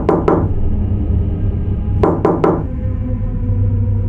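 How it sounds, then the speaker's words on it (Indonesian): Slow knocking on the back of an ambulance: two knocks, a pause, then three more in an even rhythm, loud and close with a dull hollow thud over a steady low rumble. "terdengar ketukan pelan dari arah belakang ambulans"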